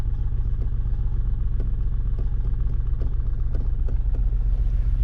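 A car pulls away slowly in first gear as the clutch is let out, giving a steady low engine rumble with faint regular clicks and clatter throughout, close and continuous.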